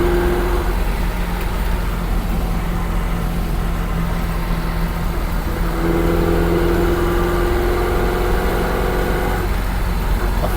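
A restored classic car's engine runs steadily nearby, then surges unexpectedly into a louder rev about midway before settling, with a continuous mid-range engine drone throughout.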